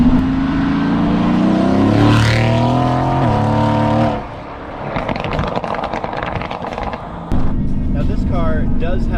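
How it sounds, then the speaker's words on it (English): Inside a tuned Mercedes AMG GT with a 4-liter twin-turbo V8, the engine drones and revs up through gears, then drops back quieter before surging again, with talk over parts. "it has a 4-liter twin turbocharged V8 that makes stock nearly 500 horsepower"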